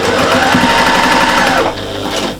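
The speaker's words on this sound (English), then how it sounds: "I'll do a little back stitch there just to make sure." Close sewing machine stitching a cushion seam, with a steady fast whirring rhythm that slows and changes briefly near the end as it back stitches.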